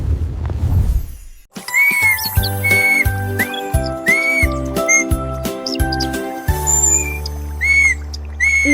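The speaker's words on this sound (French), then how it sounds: "Le caneton a commencé à essayer des mélodies sifflantes, atteignant le ciel." A duckling's whistling melody in a children's song, bright chirpy whistles and squeaky calls repeating over a steady rhythmic musical backing, loud and up front.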